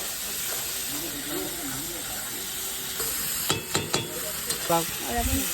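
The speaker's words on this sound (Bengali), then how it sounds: "মশলাটা কিন্তু কষিয়ে নেওয়া হচ্ছে হলুদ লবণ চলে গেল" Spice paste with turmeric and salt frying and being stirred in a pan while cooking a Bengali lote fish curry, a steady hiss with a few stirring clatters near the end.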